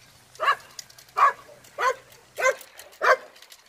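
Dutch Shepherd dog barking during ring sport bite training in the rain, five sharp, evenly spaced barks at close range with short pauses between them, no talking.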